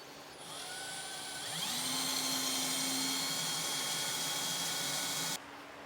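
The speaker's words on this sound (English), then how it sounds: "drill a pilot hole." A power drill bores a pilot hole into a 2021 Ram truck bed for a Curt custom fifth wheel installation kit, a close, loud whine that rises in pitch as it spins up, holds steady for several seconds, then cuts off abruptly.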